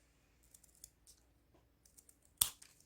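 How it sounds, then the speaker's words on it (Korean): Scissors snip through folded paper during cherry blossom origami, a few quiet cuts ending in one sharp, close snip near the end, with no talking. "자, 가위를, 가위로 여기를 잘라주세요."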